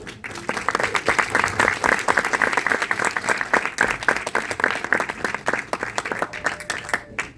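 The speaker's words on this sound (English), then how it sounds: "A round of applause for him, please." Audience applause for a film director at a screening, a dense, steady wash of many hands clapping from a full room, sustained loudly throughout without speech.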